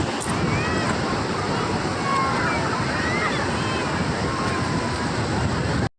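Sea waves wash steadily onto a beach in a continuous loud roar of surf, with wind buffeting the microphone throughout and faint voices at moments.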